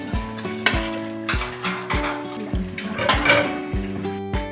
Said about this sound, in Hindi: अब इसको हम भून रहे हैं।